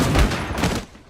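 Dense burst of gunfire from a film gunfight scene, loud and continuous rattling shots over a rumbling mix that fade slightly toward the end.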